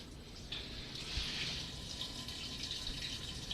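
Honey dissolved in warm water, about 3.5 pounds, is poured into a jar of other ingredients for mead, giving a steady liquid splash and trickle that runs throughout without pause.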